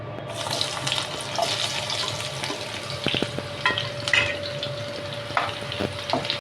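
Cinnamon pieces and cloves fry in hot oil, giving a soft, continuous sizzle with scattered scraping and clinking as a spoon stirs them in the pan, plus a faint steady tone in the background.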